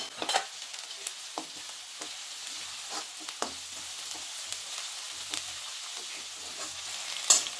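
Onion and spices sauté in a pan with a soft, low crackle and intermittent stirring scrapes and taps, fairly quiet and close.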